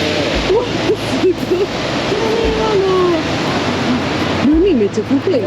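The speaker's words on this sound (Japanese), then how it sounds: "波めっちゃ高いよね。" High Pacific Ocean waves crash steadily on a West Coast shore, filling the scene with loud continuous surf rumble while music plays over it.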